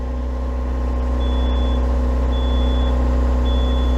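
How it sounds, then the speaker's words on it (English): A boat's smoke detector beeps in three short, evenly spaced high tones over the steady, loud drone of a running Perkins 4.108 diesel engine, with no voices. "I got a smoke detector going off inside the boat."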